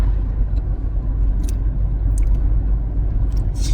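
Interior of a car driving along a road, with a loud steady low rumble of engine and tyres throughout and a few faint higher clicks and rattles near the end.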